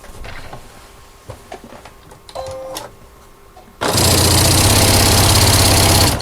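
A sewing machine stitching bias binding onto a fabric notebook cover starts after a few quiet handling noises and then runs loud and steady, a continuous close mechanical whir.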